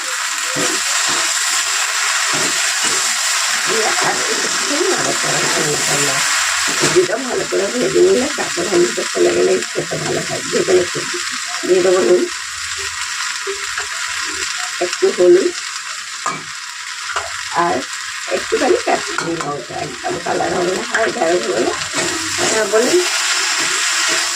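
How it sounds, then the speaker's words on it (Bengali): Okra frying in a pan for a mustard okra dish, a steady loud sizzle broken by repeated scraping and clattering as it is stirred, with a voice talking over parts of it. "এবার দিয়ে দেবো ঢ্যাঁড়সটা ঢ্যাঁড়সটা দিয়েও বেশ নাড়াচাড়া করে নেবো"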